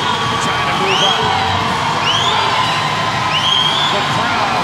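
Spectators at an ISL swimming meet in Budapest cheer and whoop steadily through a race, a loud continuous crowd roar with rising shouts and yells layered on top.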